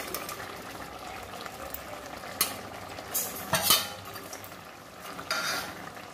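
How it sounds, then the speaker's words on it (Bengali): Pieces of fried fish go into a pan of mustard-paste gravy over heat, giving a soft sizzle and bubbling marked by several sharp clinks and scrapes of a utensil against the pan. "এই মাছ ভাজাগুলো দিয়ে দিচ্ছি।"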